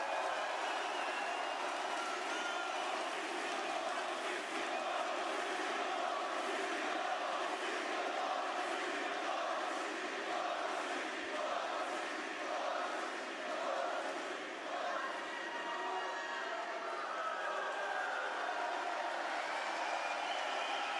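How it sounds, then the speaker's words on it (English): A wrestling arena crowd at Monday Night Raw roars steadily for about twenty seconds, a dense, sustained wall of cheering and chanting with no talk over it. "The crowd, once again, absolutely phenomenal."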